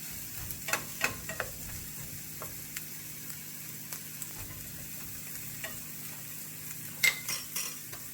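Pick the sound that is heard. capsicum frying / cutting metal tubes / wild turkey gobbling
capsicum frying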